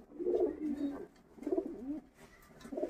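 Pigeons kept in cages cooing close by, three soft low throaty coo phrases in a slow repeating rhythm, with no voices.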